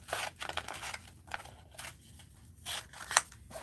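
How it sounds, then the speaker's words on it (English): Paper pieces are snipped off a sheet of cooking-themed craft cutouts with scissors, several soft cuts and rustles close by in a quiet room. "Let me just cut these off."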